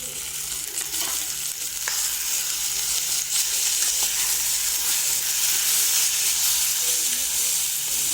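Chicken pieces go into a hot pan with onions and spices and fry with a loud, steady sizzle and hiss. Light stirring clatters through it, close up and continuous, with no talking.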